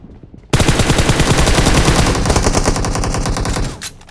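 Sustained machine-gun fire in a video game, one loud continuous rapid burst lasting a few seconds before cutting off, alone with no talk.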